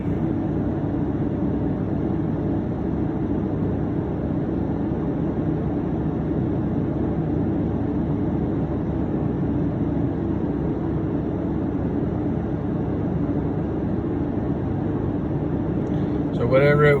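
A vehicle engine idles high during diesel particulate filter regeneration, giving a steady, constant drone that stays even and close throughout, with a brief rustle right at the end.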